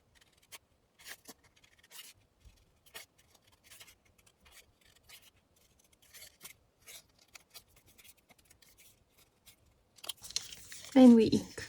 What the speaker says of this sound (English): Let's cut this one.